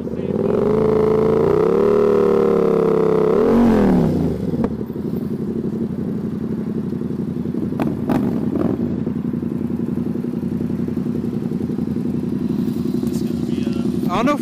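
A motorcycle engine is revved hard during a burnout attempt at an IMS 2018 after-party ride. It holds a loud, high, steady rev, then drops sharply into a lower, rumbling idle that carries on close and continuous.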